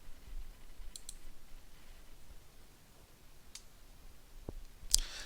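A few sparse, faint computer mouse clicks sound against quiet room noise, with a sharper click near the end.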